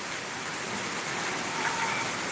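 Sudden rain falling in Karad under cloudy skies with some sun, a soft, even hiss of steady rainfall throughout.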